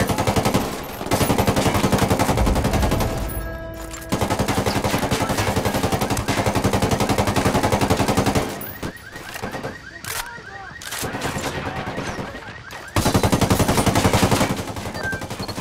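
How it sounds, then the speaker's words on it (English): Gunfire fills a Ghost Recon Wildlands firefight: dense, loud bursts of rapid automatic shots, some brief pauses, then renewed sustained firing, with game sounds mixed in. "Opening fire."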